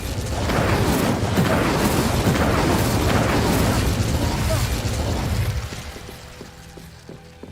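Fiery spell blasts in Hogwarts Legacy, a loud sustained roar of explosions and crackling bursts that fades after about five seconds into quieter mechanical ticking.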